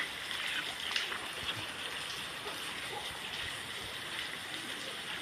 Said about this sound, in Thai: หอแจกไทยวังคำฝนตกพรำๆนะครับ